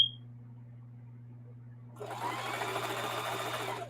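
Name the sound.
sewing machine back-stitching bottom of camo tote bag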